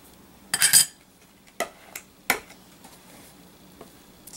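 A cake comb is drawn along the edge of whipped cream frosting on a green jello cake, giving a few short scraping and tapping bursts, the first longest and brightest, then scattered softer clicks.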